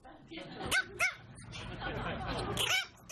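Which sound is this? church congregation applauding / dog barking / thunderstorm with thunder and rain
dog barking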